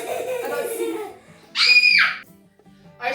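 A child screams in a short, loud, high burst of about half a second partway through, after a stretch of an adult talking in a kitchen, with another brief shriek starting at the very end.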